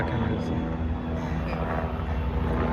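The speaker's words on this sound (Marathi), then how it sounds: "तर मित्रांनो हेलिकॉप्टर बघा" A continuous low droning helicopter engine rumble with a steady hum, loud and close, passing overhead.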